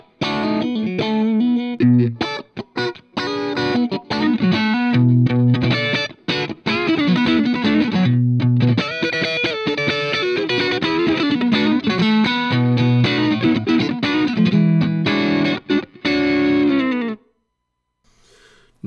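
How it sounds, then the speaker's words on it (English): An electric guitar plays through an AmpliTube Overscream overdrive pedal modeled on the Ibanez Tube Screamer, giving a driven, distorted tone with a busy run of sustained notes and chords that stops abruptly near the end, loud and alone. "I use a pedal called an AmpliTube Overscream, which is obviously based on the Ibanez Tube Screamer"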